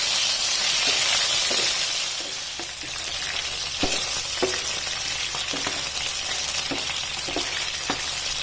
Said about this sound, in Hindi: अब चिकन को इसमें 2 से 3 मिनट तक फ्राई होने देना है ऑयल में।